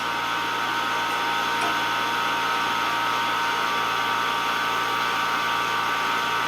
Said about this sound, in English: let's add another burst of gas.